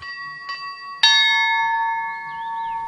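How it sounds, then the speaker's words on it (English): A bell in a Siberian religious community rings for prayer: two soft strikes, then one loud clear stroke whose long tonal ring fades slowly, with faint bird chirps in the background. "5 times a day a bell rings and the followers turn solemnly to pray"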